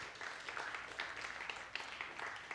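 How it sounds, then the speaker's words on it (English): Audience at a health talk applauding a guest speaker, a dense, steady patter of many hands clapping at moderate distance, sustained without pause for a couple of seconds. "can we give Wendy an applause?"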